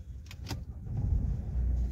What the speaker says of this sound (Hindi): देख सकते हो गाड़ी अपना स्टार्ट है